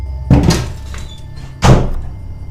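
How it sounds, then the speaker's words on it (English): A house door slams twice in quick succession, loud and close, each bang a heavy thud with a short rumbling tail, against a quiet background. "A door begins slamming non-stop as the explorers are investigating her home."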